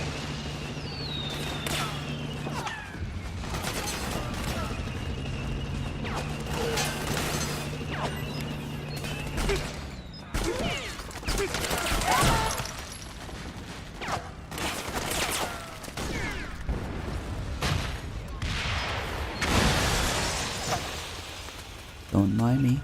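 Bursts of unsuppressed gunfire from Metal Gear Solid 4, with rapid crackling shots, crashes and clanking mechanisms spread through a busy, loud game scene.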